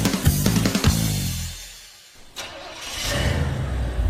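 An old beater car engine cranks briefly and catches, then settles into a loud, rough running drone that continues to the end, with no talking.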